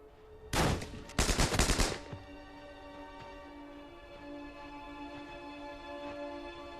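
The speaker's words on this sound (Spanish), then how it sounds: "Sus soldados abren fuego con las ametralladoras y reducen a los prisioneros." A burst of machine gun fire followed by a second, longer rapid burst, loud and sharp, after which it gives way to a low, steady droning hum.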